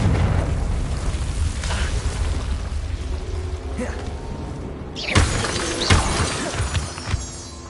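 Confringo blasting spell explosions in the Hogwarts Legacy video game, with a sharp shattering burst and crackling debris near the middle and a second blast shortly after, over a steady game soundscape and low rumble.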